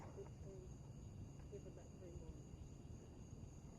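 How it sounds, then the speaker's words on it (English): Crickets chirp outdoors on an August night at a campsite, a faint, steady high-pitched trill running continuously under a quiet hiss of background noise. "Crickets."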